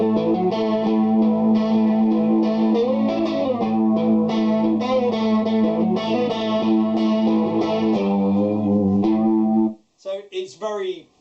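An electric guitar played through a Zoom pedal set to a strong, fast chorus plays a sustained, shimmering chordal phrase. Near the end the guitar stops and someone briefly talks.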